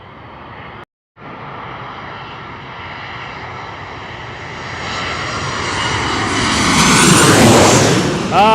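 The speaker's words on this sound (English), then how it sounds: "I gotta love those Boeings. 737-800." A Boeing 737-800 airliner passes at LaGuardia Airport, its engine roar starting steady and loud, then swelling stronger and closer toward the end after a brief dropout.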